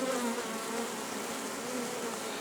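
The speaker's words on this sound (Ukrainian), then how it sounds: "Ось так носять бджоли липовий мед" Honeybees swarm around a flowering linden tree, their dense, steady buzzing filling the air nearby with no pauses.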